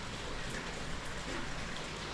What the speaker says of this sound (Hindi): बारिश हो रही ना, वो देखो बारिश।